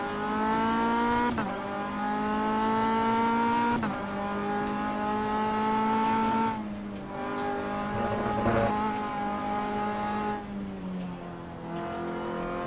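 A race car driven around a track in the Automobilista racing game, engine loud and constant, with rising and falling revs and sharp drops at each gear shift, no talk over it.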